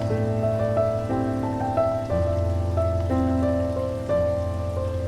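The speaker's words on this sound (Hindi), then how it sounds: "अचानक से बारिश शुरू हो जाती है" Rain begins to fall, a steady soft hiss of drops on surfaces that runs continuously beneath a loud, sustained melodic music track.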